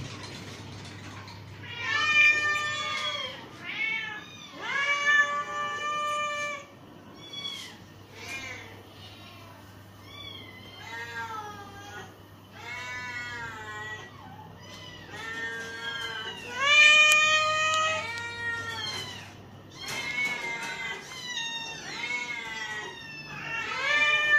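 Several cats in a pet clinic's cat boarding room meow repeatedly, overlapping in drawn-out, rising and falling cries, with a low steady hum underneath.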